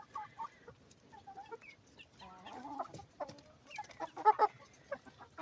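Chickens and a rooster in a Ukrainian village cluck in scattered bursts, the rooster's calls mixed in, fairly close and moderately loud against a quiet background.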